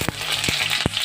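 Bay leaves hiss and sizzle in hot oil in a wok, a continuous close frying crackle broken by a few sharp pops.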